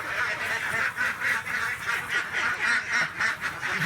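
Domestic ducks kept for eggs quack in a rapid, continuous rhythmic series close by, with no talk over them.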